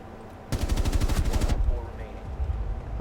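Automatic gunfire in the video game Rainbow Six Siege, a loud, rapid burst of shots that lasts about a second, with game ambience and rumble continuing after it.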